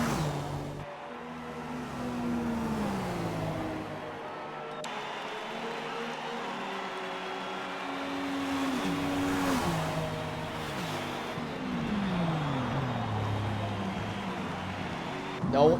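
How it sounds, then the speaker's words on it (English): A race car engine in a sim-racing broadcast of the 24 Hours of Daytona, with GT and LMP cars, revs up and down through gear changes and corners while tyres slide. It runs continuously under steady commentary. "you can you can audibly hear how much Unku is sliding that car around"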